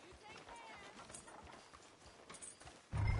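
Horse hooves clip-clop steadily at a walk on a street in the GTA video game, faint under low background noise, ending with a louder burst of sound.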